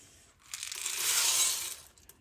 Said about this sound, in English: We are going to start this recipe by adding 2 cups of beans.